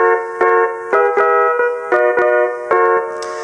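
A Casio MT-68 keyboard runs through a song with its pitch dial turned to the opposite end, punchy repeated chord notes in a steady bouncing rhythm, loud and up front with nobody talking.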